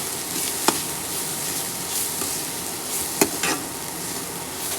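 A vegetable curry with turmeric cooks in a pan with a steady, fairly loud sizzle. A few sharp spoon scrapes or knocks break through it, and no one speaks.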